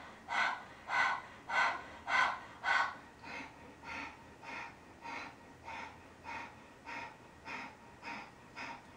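Rhythmic, forceful kapalabhati yoga exhalations through the nose, about a dozen evenly spaced puffs, louder at first and then softer, with no talking.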